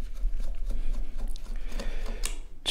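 Small screws being backed out of the plastic case of a handheld digital multimeter during a teardown: close, soft ratcheting clicks and scraping of the screwdriver, with light handling noise and no talk.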